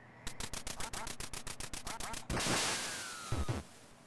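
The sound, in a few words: ducks quacking in NES video game Duck Hunt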